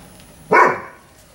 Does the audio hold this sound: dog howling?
yes